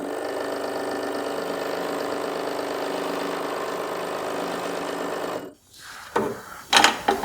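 A scroll saw runs without cutting, giving off a steady loud mechanical buzz and whine with a fast rattling pulse, then cuts off abruptly and leaves a few faint clicks and knocks.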